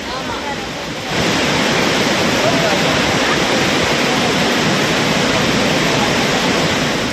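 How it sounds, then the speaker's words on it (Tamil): Rain-swollen Panchalinga waterfall in the Thirumoorthy hills near Udumalai, in flood, roaring as a steady, loud broadband rush of water that swells after a quieter first second and continues unbroken. "பஞ்சலிங்க அருவியில் வெள்ளப்பெருக்கு ஏற்பட்டுள்ளது."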